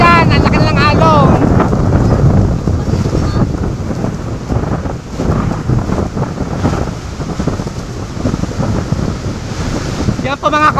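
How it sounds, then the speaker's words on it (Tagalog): Strong wind buffets the microphone over crashing sea waves on the shore by a resort during Typhoon Carina, a loud, continuous roar with surf surges throughout and faint voices. "Yan, nandito na po ang dagat."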